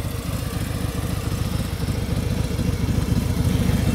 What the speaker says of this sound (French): Alors le cœur de la Road Glide évidemment, c'est ce moteur